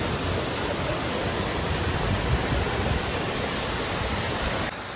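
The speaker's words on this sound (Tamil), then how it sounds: "அந்த ஃபால்ஸ் வாட்டரோட சவுண்டு கேட்கும்போதே ஒரு சூப்பர் எக்ஸ்பீரியன்ஸாக இருந்துச்சு" A waterfall in the Vagamon forest in Kerala pours with a loud, unbroken roar of rushing water, close and steady, dropping slightly in level just before the end.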